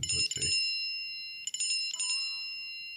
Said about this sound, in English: I use the dings on the computer